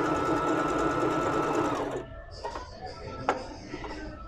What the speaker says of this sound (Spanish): Ahí está trabajando en puntada recta